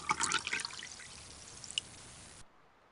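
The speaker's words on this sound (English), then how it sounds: "And you just pour them all in, make sure it's a nice steady flow." 5W-20 motor oil poured through a funnel into a car engine's six-quart oil pan, a close, steady liquid glug and trickle that thins out and stops abruptly.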